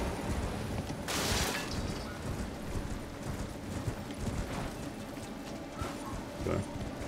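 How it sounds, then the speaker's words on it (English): Horse hooves clip-clopping in Elden Ring's Altus Plateau, a rhythmic galloping patter with a sharp burst near the start, heard under faint game ambience and occasional talk. "So now we can finally use our horse."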